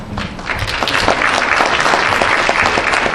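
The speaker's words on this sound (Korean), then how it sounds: "큰 박수로 환영해 주시면 감사하겠습니다" Audience applause welcoming a professor to the podium at a Four Major Rivers symposium on fish distribution, a dense, steady clapping from a full hall that holds loud throughout.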